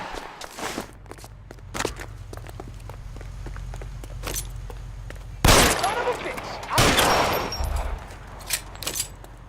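Gunshots during a foot chase of a suspect in the game L.A. Noire: footsteps and scattered shots build to two loud, close blasts midway, with someone talking over the scene.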